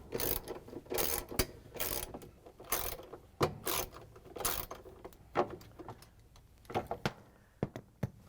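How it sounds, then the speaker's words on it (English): A ratchet with a 3/8 inch socket and extension turning bolts out of a GE washing machine cover, giving quick bursts of close, crisp clicking in an irregular rhythm with brief pauses between strokes. "going to use the 3/8" socket with a ratchet and an extension to remove the bolts"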